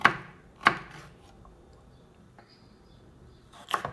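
A knife dices celery into small cubes on a board, with three sharp, isolated chops: two close together at the start and one more after a quiet gap.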